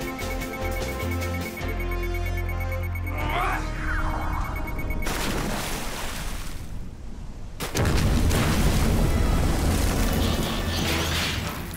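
Explosions in the Transformers Rescue Bots cartoon boom loudly with heavy rumbling blasts, a first burst followed by a bigger, sustained roar of debris a few seconds later, against a dramatic score.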